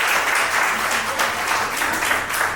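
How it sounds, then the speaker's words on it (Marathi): Applause in honour of a beloved elder at a 60th birthday celebration, a steady, dense wash of many hands clapping together, sustained and fairly close throughout with no talk over it. "याच्यावर सगळ्यांच्या टाळ्या करायच्या."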